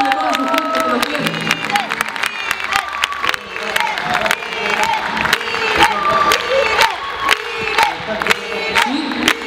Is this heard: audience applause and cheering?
yes